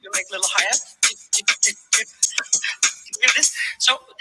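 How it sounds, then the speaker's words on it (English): Crisp, breathy hi-hat ticks, apparently made with the mouth, tumble out in a quick, slightly uneven rhythm, close and fairly loud. "I can even make little hi-hats."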